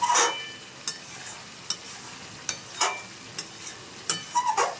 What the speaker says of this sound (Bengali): মাংসটাকে ভালোভাবে কষানো হচ্ছে।